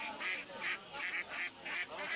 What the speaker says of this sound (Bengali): দেখুন দেশি হাঁসের বাচ্চাও রয়েছে।